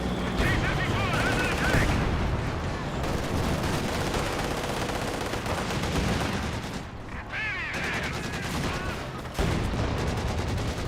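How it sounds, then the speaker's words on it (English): Pak 40 anti-tank gun shots in Company of Heroes 2, several loud cannon reports amid a dense, continuous battle din of gunfire and explosions, with a voice talking over parts of it. "Here are multiple Pack 40 shots."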